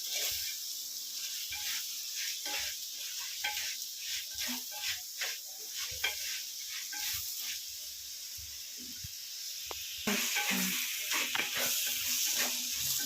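Crab sautés in hot oil for a home-style crab rasam, with a soft continuous sizzle broken by frequent scraping and clattering stirs close by that grow louder toward the end.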